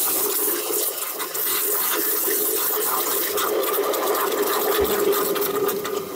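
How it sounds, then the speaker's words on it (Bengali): An espresso coffee machine's steam wand steams plain cold water in a shop, giving a continuous loud, rushing hiss with gurgling, bubbling texture that holds steady throughout, with no speech. "এই যে জাস্ট আমি এখানে স্টিম করলাম।"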